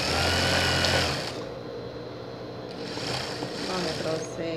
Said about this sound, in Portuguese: Aí você vai passar o overlock com o elástico na barra do macacãozinho e vai fechar.